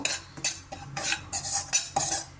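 Semolina roasting in hot oil for jackfruit holige, with a metal spoon scraping and clinking against the pan in a series of uneven strokes, fairly close and without voices.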